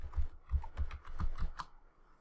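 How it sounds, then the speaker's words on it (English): Quick bursts of keystrokes on a computer keyboard, a short run of close, crisp clicks in an uneven typing rhythm that trails off into quiet. "I'm going to simply type localhost."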